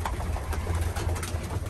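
Pigeons coo softly and repeatedly while being fed in the morning, a low continuous murmur of several birds close by with faint background noise.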